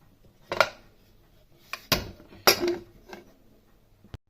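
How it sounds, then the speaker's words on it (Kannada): A pressure cooker holding a little turmeric and oil is set on a kitchen stove, giving a few sharp metallic clanks and knocks spread over a few seconds, close and fairly loud, with no talking. "ಈಗ ಕುಕ್ಕರ್ ಇಡ್ತಾ ಇದ್ದೀನಿ."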